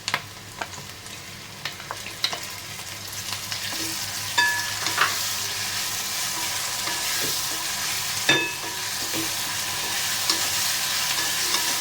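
Ginger garlic paste frying in a pan for soybean pulao, a steady sizzle running throughout with scraping stirs and light clinks of the spoon, close and alone with no talk.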